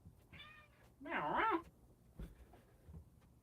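A house cat meows twice indoors, a short higher call followed by a louder, drawn-out meow, with faint room noise and a soft thump afterward.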